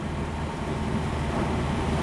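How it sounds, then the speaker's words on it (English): A wood gas-powered truck idles at high revs: a steady, loud engine drone with a constant low rumble, revving high and unchanging throughout. "It's making my idle rev extremely high."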